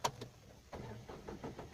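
A Tata Nexon CNG car engine cranks and starts, with a sharp onset followed by a low, steady engine rumble, heard up close.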